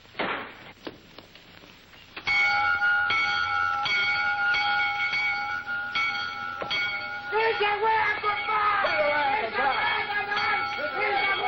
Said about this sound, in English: Now, first, ring the bell.